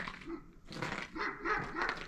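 Farm dogs bark faintly in the distance at night, a few muffled, overlapping barks and yips rising and falling.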